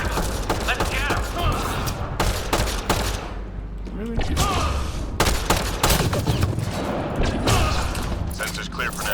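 Rapid bursts of gunfire from a sci-fi shooter game, Mass Effect Andromeda, crackle loudly and almost continuously, with volleys and thuds over a busy battle backdrop and a voice speaking intermittently.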